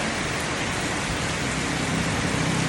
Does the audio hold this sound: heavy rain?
yes